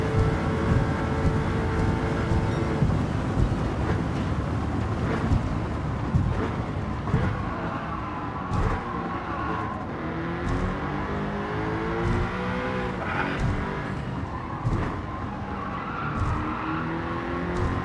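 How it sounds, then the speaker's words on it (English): An Audi R8 4.2 races hard in Gran Turismo, the engine roaring loudly with rising and falling revs, repeated downshifts and tire squeal across a long, busy stretch of driving. "I was like trying to slam the gears down to slow it down some more."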